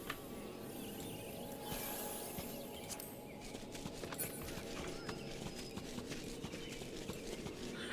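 Clip-clopping hooves of a horse mount in the video game Final Fantasy XIV, a steady quick rhythm of hoofbeats over a faint ambient bed with insect-like chirring, quiet and continuous.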